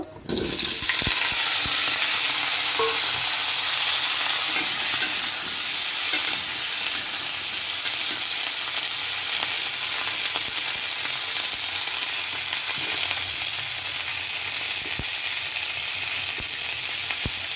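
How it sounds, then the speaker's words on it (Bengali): Loud, steady sizzling of tomatoes frying in a pan, a continuous bright hiss with occasional faint clinks of stirring, no voices. "টমেটোগুলো দিয়ে দিব"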